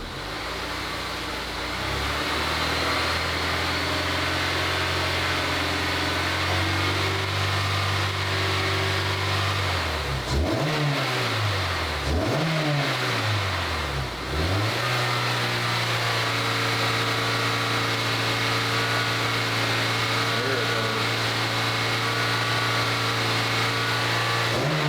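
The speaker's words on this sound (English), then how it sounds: "So I'm gonna rev it up some." Honda S2000 engine, burning oil and awaiting valve seal replacement, idling steadily before being revved up several times with rising and falling pitch, then settling back to a smooth idle, close and loud.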